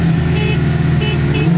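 A big-turbo Subaru STI race car accelerating hard, a loud, close, sustained engine drone with faint higher whines rising over it, no talk.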